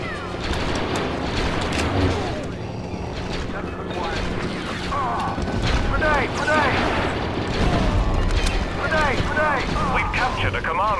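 Grenade blast in Star Wars Battlefront on Xbox One, booming amid constant battle noise, shouted voices and laser fire; chaotic and loud throughout with no single isolated bang.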